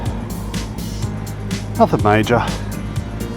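A motorcycle engine idles smoothly with a steady low rumble, running close by under a man's brief speech.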